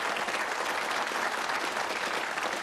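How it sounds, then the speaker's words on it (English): A studio audience on the UK game show Bullseye claps steadily in a dense, even burst of applause with no talk over it. "Come on, give them a round of applause."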